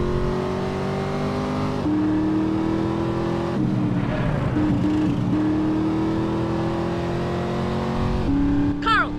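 A car engine in GTA San Andreas runs steadily throughout, with a sustained drone that rises and shifts pitch as the vehicle accelerates and changes gear, loud and close, under occasional in-game voices.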